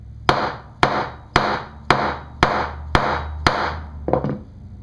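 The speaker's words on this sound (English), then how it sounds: "I'm using a dead blow hammer filled with sand" A sand-filled dead blow hammer strikes a wooden axe handle being fitted into an axe head over a protective block, seven sharp, evenly spaced thuds followed by a quicker cluster of lighter taps, close and loud with no talking.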